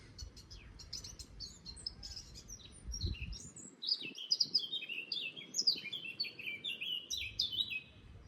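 A small grey bird with a black or brown hood sings clear, bright chirping phrases on an undercliff walk near Ventnor, starting faint and growing louder and busier in repeated bursts over a low outdoor rumble.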